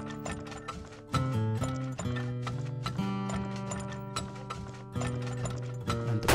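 Horses in the oil-drilling video game Turmoil make clip-clop hoofbeats with mechanical clicks, all under steady background game music.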